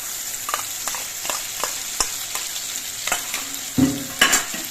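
Spiced paste of poppy seed and cashew being sautéed in oil for a potol (pointed gourd) dish, sizzling steadily while a spoon scrapes and stirs in repeated strokes, with a louder clatter near the end; no talking.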